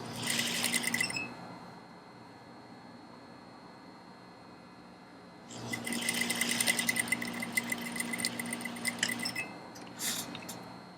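An industrial sewing machine stitches fabric in two bursts, a rapid close mechanical whirr with a fast rhythmic needle clatter, separated by a quiet pause and followed by a short final run.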